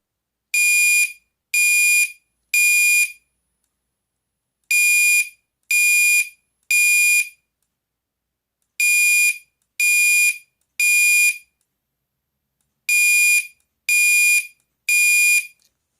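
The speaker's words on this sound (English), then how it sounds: "next setting is the beep setting in code 3 high volume, strobe on" A Gentex Commander3 fire alarm horn beeps loudly and shrilly in a code 3 pattern of repeating groups of three at high volume, each burst separated by a short pause, sounding alone and close.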